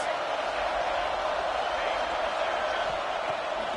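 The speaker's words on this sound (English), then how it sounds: "Big 3rd down as the crowd gets behind this defense." Stadium crowd in an NCAA college football video game roars in a steady, dense wash of cheering for a big third down, loud and continuous throughout with no pauses.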